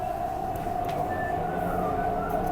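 An MTR East Rail Line R-Train runs outdoors toward Lok Ma Chau with a steady, loud rumble and a sustained hum from the car interior, plus a faint rising whine.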